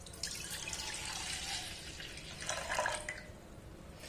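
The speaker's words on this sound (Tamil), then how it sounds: "இப்ப அதுல உள்ள புளி தண்ணி இதுல சேர்த்துடலாம்." Tamarind water pours and splashes softly into a pot, with scattered drips and a brief stronger gush near the end, faint and close.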